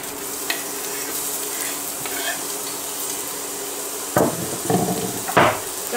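Finely chopped vegetables hiss and sizzle in a cooking pot, steady and moderately loud, with several sharp scraping stirs and clunks of a utensil against the pot near the end.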